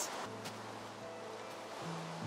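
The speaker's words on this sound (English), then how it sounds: "I just flip the switch and the lava comes cascading back in." Lava cascades in the Minecraft video game with a continuous, rushing surf-like wash, alongside low steady tones from the game's ambient sound.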